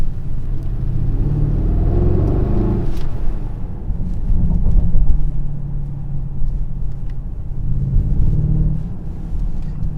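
A 2022 Mercedes-AMG GLS 63 SUV cruises with a deep, continuous engine rumble and road noise from inside the cabin, swelling slightly in the middle and staying steady throughout.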